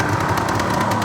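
A rebuilt 1974 Suzuki GT750L motorcycle engine, with the choke on, cranking and catching: a steady, close, loud mechanical churn with a rapid pulsing rhythm throughout.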